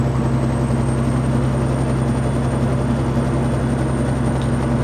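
Steady low drone of a heavy truck engine pulling in a high gear through an Eaton Fuller manual transmission, loud and continuous with a constant hum and no talk.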